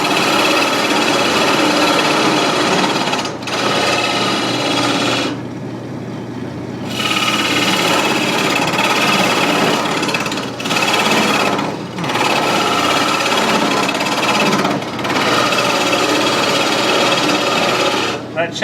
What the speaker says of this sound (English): That chatter, I think, is from just pushing it in straight, and it doesn't really like that